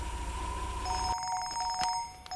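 A telephone rings briefly with an incoming call, a short electronic ring tone sounding clearly at moderate volume over a quiet room.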